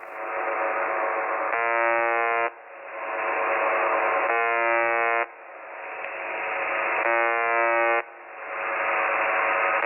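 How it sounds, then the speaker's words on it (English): UVB-76 shortwave radio station broadcasting from its always-on live microphone: a steady, loud, harsh buzzing drone in repeating bursts of a few seconds, interrupted by brief pulsing beep patterns at regular intervals, with no voices. "So it's just beeping."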